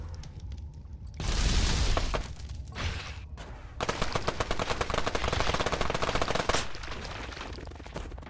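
Heavy-bullet gunfire in a dinosaur-catching video game playtest, with a rate of fire that speeds up, comes as loud, dense automatic bursts, one short and one longer sustained stream, heard close with little speech.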